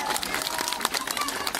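Scattered crowd applause for a girl at the Dni Chrzanowa town festival, a brief spell of quick overlapping claps heard from within the audience.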